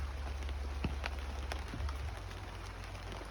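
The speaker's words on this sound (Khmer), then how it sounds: "ថ្ងៃនេះមានភ្លៀងធ្លាក់" Light rain falls steadily outdoors, a faint, even patter with a few isolated drips and a low background rumble, with no voices.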